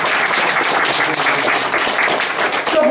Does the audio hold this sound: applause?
yes